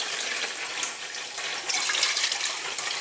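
Water running steadily into a container for making tea, a continuous close splashing pour with a brief louder surge midway, no voices.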